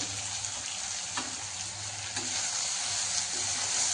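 Steady crackling sizzle of leftover cooked rice frying in a hot pan, with a few faint scraping stirs, close and fairly loud throughout, no voices.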